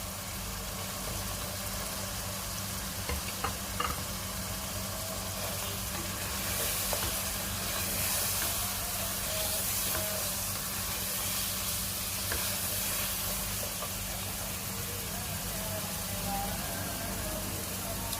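Spices sizzling with onion in a hot pan during Indian-style home cooking, a steady crackling fry with occasional stirring clinks, continuous throughout under a low background hum.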